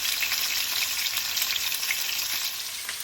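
Pork chops fry in a hot pan with a steady, loud sizzle that runs unbroken from start to finish, with no voices over it.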